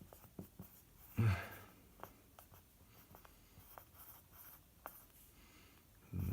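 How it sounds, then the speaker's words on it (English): Pen writing out a calculus solution by hand on paper, heard alone as quiet scratchy strokes with short bursts and pauses, plus a couple of louder knocks. "I'm going to write out just in case"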